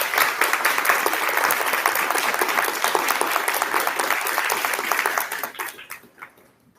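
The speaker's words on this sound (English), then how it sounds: "Please join me with giving them a round of applause." Audience applauding the Board of Education at a school district event in North Merrick, steady dense clapping from a sizable crowd that fades out near the end.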